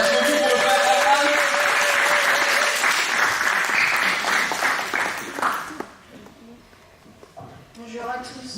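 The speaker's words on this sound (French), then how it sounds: "On applaudit pour le frère Herman" A church congregation breaks into loud, sustained applause at a Sunday school event, the dense clapping thinning and fading out after about six seconds, with a few voices mixed in.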